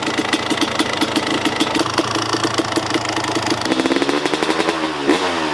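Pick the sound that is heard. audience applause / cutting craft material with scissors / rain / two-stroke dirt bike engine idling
two-stroke dirt bike engine idling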